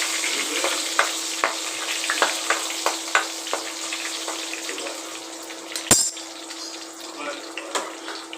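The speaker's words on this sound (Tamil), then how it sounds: "நல்லா வதக்கி விட்டுக்கலாம்." Chickpea and brinjal with curry leaves sautéing in a pan for kara kuzhambu, a steady close sizzle broken by regular sharp clinks of a stirring spoon and one louder knock.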